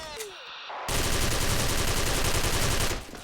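Rapid, loud automatic fire from a Platinum XM8 rifle in the game Special Force erupts after a brief quiet moment and rattles on continuously for about two seconds before cutting off.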